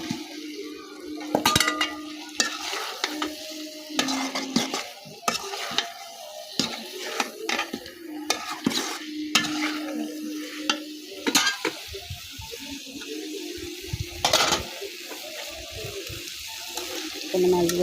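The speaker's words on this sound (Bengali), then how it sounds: "আলুগুলো আমি হালকা ভাজি রাখলাম" Potatoes fry in spiced oil in a pan, a continuous sizzle overlaid by frequent clanking and scraping of a spatula against the metal pan as they are stirred, close and fairly loud throughout.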